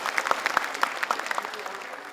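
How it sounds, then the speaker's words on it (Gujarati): An audience applauds at a stage event, a brief burst of dense, sharp hand claps that peaks quickly and then thins out. "એકવાર રશીદભાઈ માટે તાળી પાડો"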